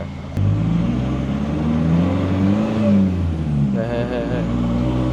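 A tuned 1.9 pickup truck launches hard, its engine surging and revving with rising and falling pitch, loud and close.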